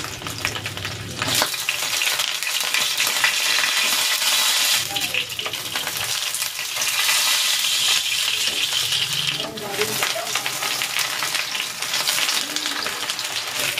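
Embutido, a Filipino meat roll, fries in a pan with loud continuous sizzling and crackling oil, close and steady, with a faint voice and occasional utensil clinks underneath.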